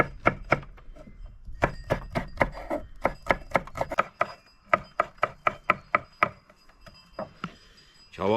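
Vegetables finely chopped on a wooden board for minced meat, a fast series of crisp knife thunks in quick bursts with short pauses, close and loud.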